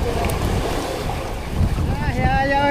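A fishing boat's engine runs at sea in heavy swell, a steady low rumble buried under strong wind buffeting and splashing waves, with faint tonal whines rising near the end.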